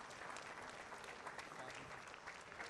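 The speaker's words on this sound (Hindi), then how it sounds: "अब जोरदार तालियों से आज की प्रस्तुति में शामिल सभी ब्लैक कैट कमांडोज का हौसला बढ़ाएं।" Loud, dense applause from a large crowd cheering Black Cat commandos after a demonstration at a formal event, continuous and even throughout with no break.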